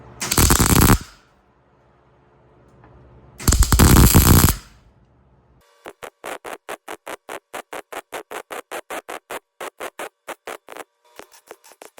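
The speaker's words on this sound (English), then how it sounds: "My welder was acting funny on me there at first, and then she woke up and came to work" A welder butt-welding an exhaust adapter on a 50-year-old John Deere 450 dozer: two harsh buzzing bursts, then a rapid run of sharp, evenly spaced crackling pulses, loud and close.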